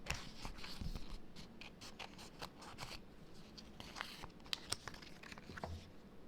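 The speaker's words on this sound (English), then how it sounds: "let's cut the excess of the pink vinyl off" Scissors snip away excess pink vinyl on a custom tumbler, faint close cuts and crinkles with scattered sharp clicks in a quiet room.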